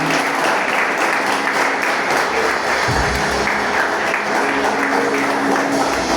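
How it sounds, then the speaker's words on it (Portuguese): A church congregation fills the space with steady, loud applause that is dense and continuous, with no break and no speech over it. "Você pode dar uma grande salva de palmas ao Senhor."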